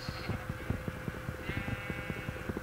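A video-game sheep bleats twice, drawn-out and fairly clear, over a steady rhythm of soft tapping.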